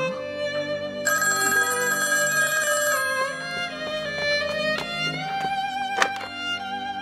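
A telephone rings steadily with repeated electronic bell tones, loud and close, in an indoor drama scene without speech.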